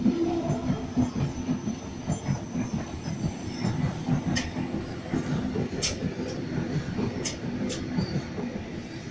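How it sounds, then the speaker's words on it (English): A southbound Sydney Trains V-set passes through a station platform with a continuous rumble and clatter of wheels, and brief squeals and hisses later on. "Southbound VSET passing through platform number one."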